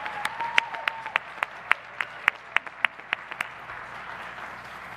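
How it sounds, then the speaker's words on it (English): Audience at a 2021 law school graduation convocation claps for the graduates, a sparse scattering of distinct hand claps from a modest crowd, fairly distant in a large hall, thinning out over a few seconds. "Now we can applaud them."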